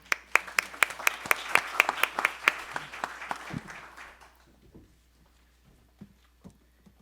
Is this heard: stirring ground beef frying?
no